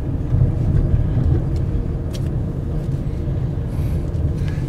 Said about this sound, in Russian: Вот автобус задом сдают,